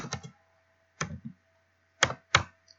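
A handful of sharp keystrokes on a computer keyboard, spaced out in small clusters, close and fairly quiet against a silent background.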